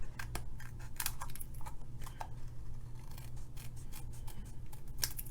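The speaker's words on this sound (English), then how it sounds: "so I can trim that a little bit" Scissors trim a piece of cardstock for a handmade card front, a quick series of crisp, close snips and small cutting clicks at an uneven pace, with no voices.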